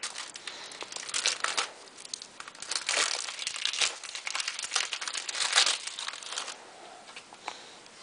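The plastic wrapper of a Match Attax football card pack crinkles and crackles loudly and close-up as it is torn open, in irregular bursts of rustling over several seconds.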